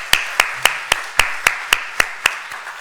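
Slow, evenly spaced claps during a church service, about eleven sharp hand claps in steady rhythm, close and clear with no voices.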